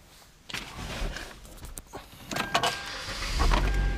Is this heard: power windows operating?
yes